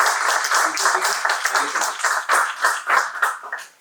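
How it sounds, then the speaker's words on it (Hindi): A panel-discussion audience gives loud, dense applause to welcome a speaker onto the stage, the clapping steady and close for the whole stretch. "तो जोरदार तालियों से स्वागत कीजिए"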